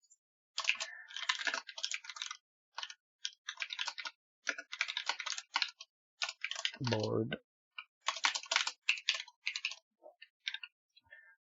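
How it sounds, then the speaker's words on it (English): Computer keyboard typing in rapid bursts of close, crisp clicks, with short pauses between runs and a brief voice in the middle. "My keyboard's probably extra loud today because I'm using a different mic"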